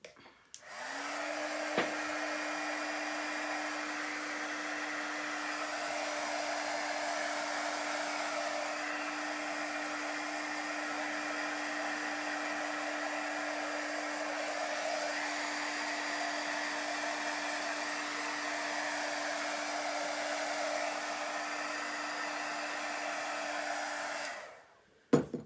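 A hair dryer blows steadily at close range while drying a chalk paste design on a repurposed globe. A steady whine and rushing air run for about 23 seconds, then it switches off.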